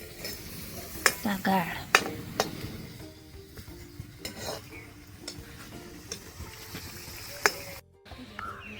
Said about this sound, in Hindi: घी की पूड़ियाँ तली जा रही हैं